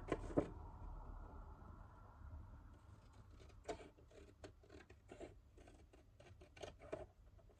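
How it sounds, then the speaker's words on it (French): Scissors or a blade snip and rasp through paper while a handmade holiday decoration is cut out, producing quiet, irregular cutting strokes and soft rustles close to the microphone, with no talking. "Et là, je découpe."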